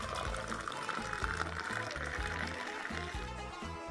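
Hot Moroccan tea pours from a pot into glasses, a steady liquid splash and trickle lasting several seconds, close and fairly loud, with a faint low rhythmic thumping underneath.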